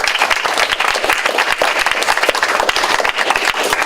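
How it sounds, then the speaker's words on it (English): A crowd at a general meeting gives a round of applause in a meeting room: dense, loud, continuous clapping from many hands, with no voices over it. "So a big round of applause to everyone in here for all your hard work"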